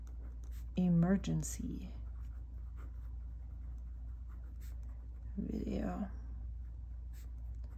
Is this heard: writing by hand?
yes